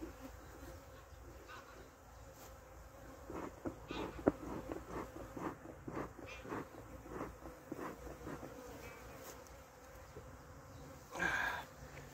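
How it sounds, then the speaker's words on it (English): A swarm of honeybees buzzes during hive catching, a faint, continuous droning hum with individual bees whining past now and then. "Time for the next set of bees."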